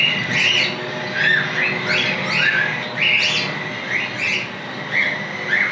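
Cockatiels being fed soft egg food chirp in repeated sharp, bright calls at a roughly regular pace, close by, over a low steady background hum.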